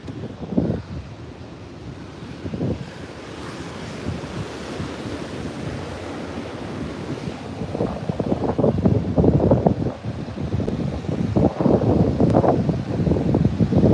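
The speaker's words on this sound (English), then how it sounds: "these are some big old waves" Big ocean waves crash and wash in surges near a beach deck in the Outer Banks of North Carolina, loud and close, with a roaring wind buffeting the microphone.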